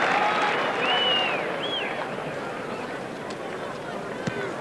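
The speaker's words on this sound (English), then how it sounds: "That's the applause for Michael Lynagh's equalling of his test point scoring record" Stadium crowd at a 1986 Australia v Argentina rugby test match applauds, a broad steady wash of clapping and cheering with whistles rising over it, fairly loud throughout and slowly easing.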